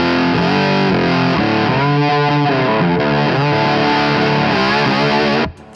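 An overdriven electric guitar with a high output humbucker, its volume knob rolled back, played through a tweed-style amp and boost pedal: a loud, continuous stretch of gritty chords and moving lines that stops abruptly near the end.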